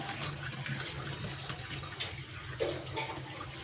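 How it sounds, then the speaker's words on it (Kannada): Water being drained from a vessel of soaked green gram, a steady pouring and splashing flow that runs close and continuous throughout, with no voices. "ನೀರು ನೋಡಿ ನಿಧಾನಕ್ಕೆ ಬಸಿರಿ"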